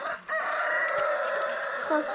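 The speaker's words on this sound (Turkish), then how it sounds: "horoz güle güle dedi bize" A rooster crows in one long, sustained call, loud and close, with a brief cluck at the start.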